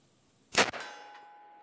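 A single sharp metallic clang rings out as a rifle bullet strikes a steel target at 50 yards, a bright impact with a lingering tonal ring that fades slowly, heard outdoors with no talk.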